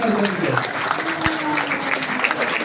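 Loud clapping from a seated audience at an event, welcoming a guest speaker; a steady burst of many hands, with a brief hum of voices and an announcer-style voice underneath.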